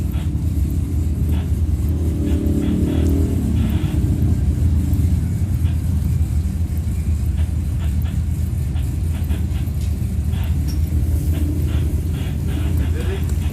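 Off-road race vehicles at the High Desert 100 qualifying in Powell, Wyoming, passing the start-finish line after the tabletops; a continuous engine rumble, loud and fairly close, with a commentator talking over it.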